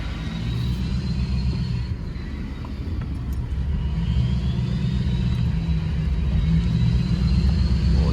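A Ford F250 pickup truck drives slowly along a rough, washed-out off-road jeep trail in Nevada. Its engine gives a steady, loud, low rumble that holds on throughout, with no talk over it.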